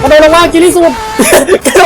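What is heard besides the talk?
No everyday noises stand out.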